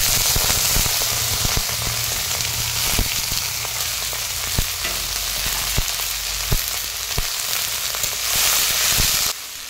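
Chopped cauliflower stalks fry with onion and green chilli in a wok, giving a loud, constant sizzle with sharp crackling pops and a few low stirring knocks; the sizzle drops in level near the end.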